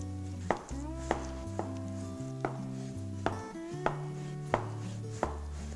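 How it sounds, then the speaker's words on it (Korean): Knife chopping through a block of tofu on a cutting board, roughly nine firm, evenly spaced chops heard close up with a steady pulse, with a faint tonal hum running underneath. "두부를 썰어 보겠습니다."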